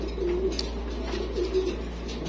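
Black Beauty pigeons on a farm give soft, low coos, two or three drawn-out calls at a close range over a steady background hum.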